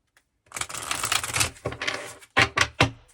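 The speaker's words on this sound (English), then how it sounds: "Okay, one more shuffle, my guides are saying." Tarot cards riffle and flutter in a quick shuffle, followed by a few sharp taps as the deck is squared, close by with no talking.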